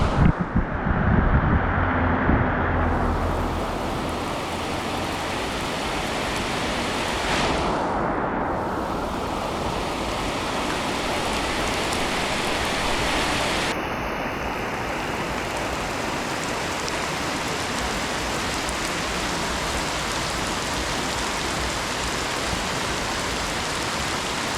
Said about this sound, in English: Look at that rain. It's bouncing.